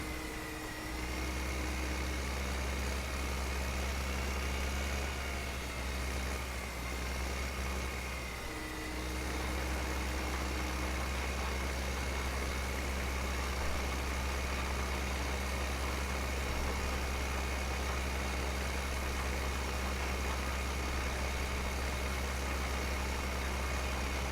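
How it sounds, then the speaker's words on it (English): An underpowered tractor engine in a video game runs steadily at a low, droning idle, a constant loud rumble with a faint whine throughout and no talk. "According to the game, this tractor is way underpowered."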